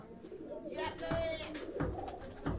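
Pigeons coo in low, throaty murmurs close by, mixed with soft rustling and a few thumps or wing sounds, with faint voices in the background.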